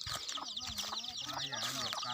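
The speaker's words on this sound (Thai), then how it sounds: "ไก่ป่าครับไก่ป่าครับ มีลูกห้าตัว" Red junglefowl, wild chickens with five chicks, cluck and call in short repeated bursts with a high chirping chorus over them, close by in an outdoor setting, under a voice.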